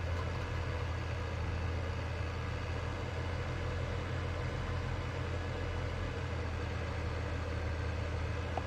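Valtra G135 tractor engine idling in Farming Simulator 22, a steady low rumble that holds evenly throughout without pauses or revving.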